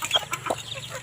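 Chickens cluck softly close by, a few quick, low clucks in a brief burst.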